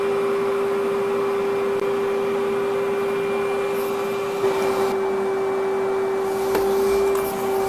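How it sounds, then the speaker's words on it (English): A vacuum cleaner drones steadily and evenly throughout, a loud continuous motor hum with a strong steady tone and a slight shift in pitch partway through. "Trying to vacuum."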